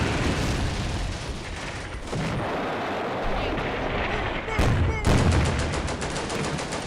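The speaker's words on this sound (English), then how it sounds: "artillery barrage is happening" Artillery barrage in the Combat Mission: Beyond Overlord video game at La Fiere, heavy rumbling blasts and rapid gunfire rolling continuously, with a loud close impact midway followed by a rattling burst.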